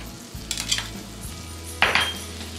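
Rinsed capers tipped into a hot pan of melted butter while cooking pork chops: a soft sizzle and clatter of spoon against pan, two brighter bursts of frying as ingredients hit the fat, close and moderately loud, with no talking.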